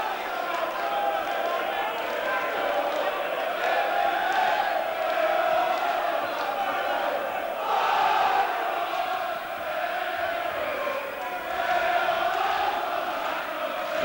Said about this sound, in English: some crowd here singing already, tops of their voices